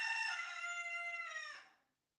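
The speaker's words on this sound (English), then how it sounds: "A rooster will always crow" A rooster gives one full cock-a-doodle-doo, loud and close, a long harmonic crow that drops and trails off into silence.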